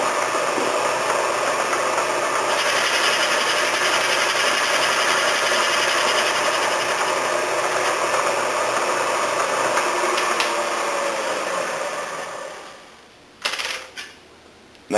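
A milling machine with a boring head takes a cut inside a sleeve, a steady close machining whir and grind that holds for about twelve seconds before winding down to a stop with a few small clunks.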